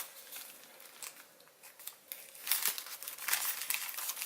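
Paper is petal folded while collapsing an origami cactus, heard as soft, close crinkling and creasing that builds into denser, louder crumpling rustles toward the end.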